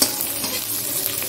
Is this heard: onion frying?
yes